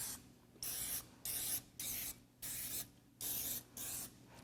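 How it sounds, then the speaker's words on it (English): Cooking spray misted onto a muffin tin in six short hissing bursts, each about half a second long with brief pauses between, close and fairly quiet. "I'm going to spray these so that they don't stick."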